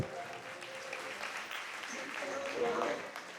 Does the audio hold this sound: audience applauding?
yes